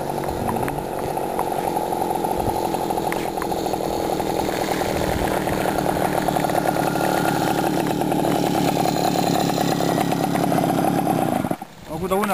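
A newly fitted motor on a small boat (võrr) off the Estonian islands near Hiiumaa runs steadily at close range, a continuous buzzing drone throughout, cutting off abruptly near the end.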